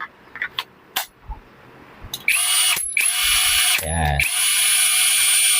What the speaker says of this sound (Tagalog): Brushless impact wrench.